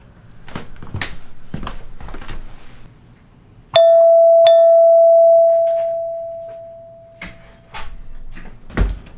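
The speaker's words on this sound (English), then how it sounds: "I've never heard a doorbell quite like that with only one chime" A single bright chime from a hardwired doorbell rings out and slowly fades, with bits of muffled handling and room noise before and after.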